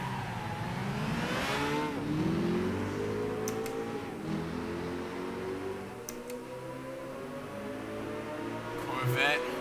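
A big V8 Ferrari accelerates hard down a race straightaway in a large fourth gear, engine note climbing then dropping through gear changes in a loud, continuous roar with rising harmonic sweeps.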